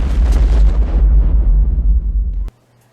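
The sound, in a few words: bomb explosion in the film Jingle All the Way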